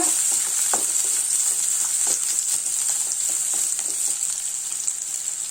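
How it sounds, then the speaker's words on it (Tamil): Small onions sauté in a pan for garlic chutney, a steady bright sizzle close by with faint scrapes of a spatula stirring through, continuous and unbroken with no voices. "வெங்காயத்தை வந்து நல்லா வதக்கிக்கணுங்க."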